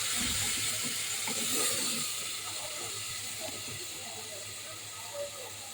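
Onion paste sizzles as it hits hot oil already spiced with cinnamon and cardamom for a beef and potato curry, a steady close hiss and spatter running throughout.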